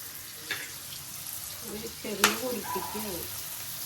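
Prawns fry in a pan for a prawn roast, a continuous crackling sizzle under a voice that talks over it.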